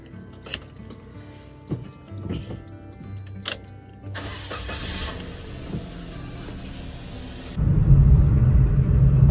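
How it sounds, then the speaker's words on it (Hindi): A car unlocks with a few sharp clicks and clunks, then its engine cranks and settles into a steady idle rumble that grows louder at the end; no one speaks. "गाड़ी करते हैं अनलॉक, और सॉरी लॉक हो गई, और हल्का सा 5 मिनट पहले ही इसको स्टार्ट कर देते हैं।"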